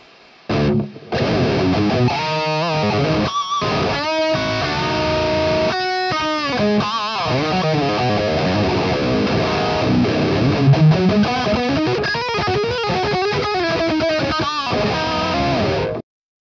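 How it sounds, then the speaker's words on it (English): An overdriven electric guitar with a mid boost pushing the midrange plays a mix of chugging chords and fast melodic runs, loud and sustained throughout, with no delay or reverb. "Let's put that mid boost back on. Got a bit of gain going there."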